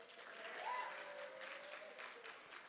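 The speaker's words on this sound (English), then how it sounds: "Round of applause for the Pinkie Pie." Applause from an audience at a fan convention panel, a soft, continuous patter of clapping from a crowd at moderate distance, with a faint tone and voices mixed underneath.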